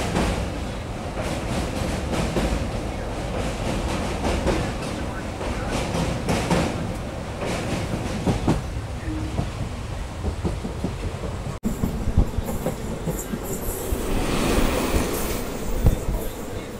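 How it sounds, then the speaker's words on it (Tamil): An Ernakulam to Guruvayur express train rolls out of Aluva station, a loud continuous rumble with rhythmic clacking of wheels over rail joints, heard from on board, with a voice talking over it. "நம்மளோட ட்ரெயின் பார்த்தீங்கன்னா 2 நிமிஷத்துக்கு அப்புறம் ஆலுவா ஸ்டேஷன்லேருந்து டிபார்ட் ஆகி போய்கிட்டு இருக்குங்க"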